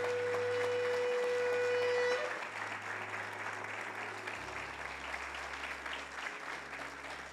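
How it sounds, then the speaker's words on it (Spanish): A church congregation applauds during a sermon, a continuous, moderately faint patter of clapping that follows a short sustained tone and has a low hum running underneath. "Aplauda el que vive."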